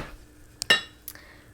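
A metal spoon clinks against dishes while risotto with sausage and mushroom is prepared, giving two or three short, bright taps in a quiet kitchen.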